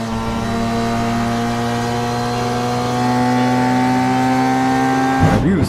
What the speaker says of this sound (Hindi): वह बाइक की स्पीड और बढ़ाकर उस सुनसान रास्ते से निकलकर अपने घर की ओर